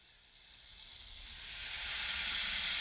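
A drawn-out hiss rises gradually in loudness, breathy and airy like a snake, sustained and unbroken with no voices.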